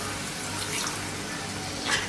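A glass of water poured into mushroom curry in a pan, a steady splashing gush that runs on without a break and ends in a brief brighter splash.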